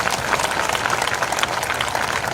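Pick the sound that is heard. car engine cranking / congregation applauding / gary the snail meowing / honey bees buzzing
congregation applauding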